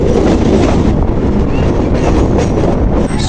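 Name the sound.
local train passing on the Naihati line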